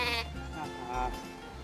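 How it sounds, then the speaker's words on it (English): Sheep on a frontier homestead farm bleat loudly and close, two wavering cries in quick succession with no talk over them. "they invest in five sheep"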